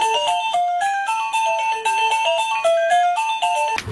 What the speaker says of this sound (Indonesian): ketika ditekan akan langsung bunyi belnya